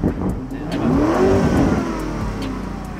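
Lamborghini Urus engine fires up and revs hard, a loud close rising roar that settles into a throaty idle.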